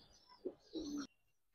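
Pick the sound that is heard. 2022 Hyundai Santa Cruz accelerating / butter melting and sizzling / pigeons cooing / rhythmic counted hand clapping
pigeons cooing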